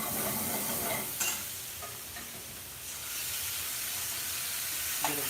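Chopped onion sizzling and frying in a hot pan at a home cooking session, a steady broadband crackle and hiss with occasional stirring scrapes, fairly close and alone with no voices.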